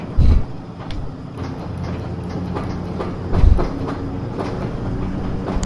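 A 1950s-era class 506 electric train rolling along the tracks, heard from inside the carriage as a steady rumbling clatter with rhythmic rail-joint clicks and two louder jolts, fairly loud and close, with no talk over it.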